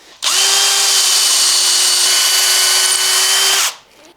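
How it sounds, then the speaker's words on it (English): A power drill drilling into a guitar body whirs loudly and steadily for about three seconds, starting abruptly and winding down at the end, with no talking. "anytime you're drilling something angled"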